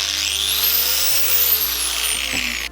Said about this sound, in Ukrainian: Давайте спочатку включимо болгарку Стенлі.